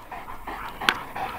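Large dogs pant in the heat after running around a farm yard, quick breathy huffs close by with one sharper yelp-like burst partway through.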